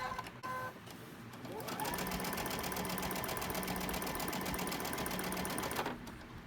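A sewing machine stitching quilt fabric, starting in short hesitant bursts and then settling into a fast, even, continuous whirring run for about four seconds before stopping.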